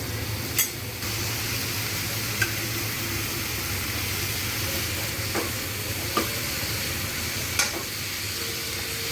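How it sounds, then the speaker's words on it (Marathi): Brinjal and potato sizzle steadily in hot tempering oil in a pan, a continuous hiss with a few faint clicks of stirring and no voices. "आता ही वांगी आणि बटाटा आपल्याला ह्या फोडणीमध्ये घालायचं आहे."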